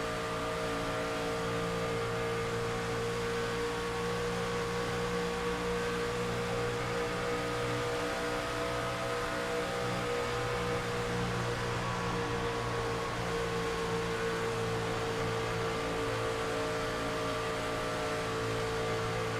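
Racing trucks run flat out around the Michigan oval, a steady loud engine drone with sustained harmonic tones that continues unbroken throughout, no voices present.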